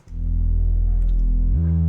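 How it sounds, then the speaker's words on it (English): A deep, buzzy resonant synth bass from Serum holds a low note with a resonant, slightly wobbling tone, then slides up to a higher pitch at the end. "And after that I added a res bass on it"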